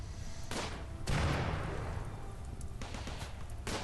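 Gunfire in RimWorld Alpha 12, a steady crackle of shots with broadband bursts at intervals, heaviest around the middle, moderately loud and unaccompanied by talk.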